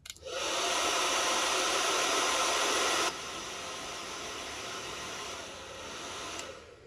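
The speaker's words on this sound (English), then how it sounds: "I'm going to use my blow dryer for a minute" A hair dryer blows steadily to dry a paper craft, a loud, continuous rushing whoosh that drops a little in strength partway through and keeps going to the end, with no talking.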